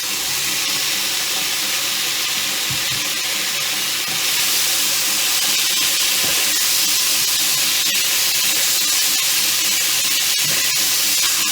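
Chicken sausage goes into a hot pan for jambalaya and sizzles with a loud, steady hiss that swells slightly partway through, close and unbroken, with no talking.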